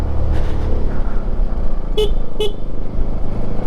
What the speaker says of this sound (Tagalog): Kailangan mong bumusina kasi masikip lang po yung daan